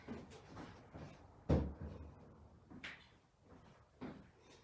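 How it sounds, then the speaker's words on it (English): Wooden furniture drawers being pulled out and handled during a furniture painting job, with several knocks and one louder thump of wood on wood, all fairly quiet. "So I'm going to pop the drawers out."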